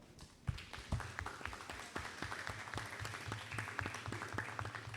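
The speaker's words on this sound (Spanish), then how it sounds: "para la que pido un aplauso, por favor." An audience at a university teacher-training lecture in Mexico bursts into applause, a dense patter of many hands clapping that starts suddenly and stays steady and fairly loud throughout, with no talking.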